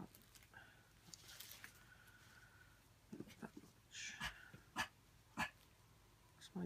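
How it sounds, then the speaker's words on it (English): A dog gives a few faint, short barks and cough-like huffs indoors, spaced a second or so apart, with quiet voices and rustling beneath. "she barks and sometimes she just coughs at me"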